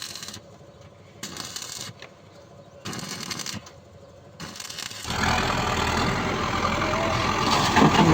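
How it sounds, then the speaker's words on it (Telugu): A tractor runs steadily and fairly loud while soil is loaded into it, with a continuous engine rumble and scraping, clattering bursts rising over the last three seconds; earlier, quieter intermittent clanking. "మన బండి అయితే లోడింగ్ అవుతుంది."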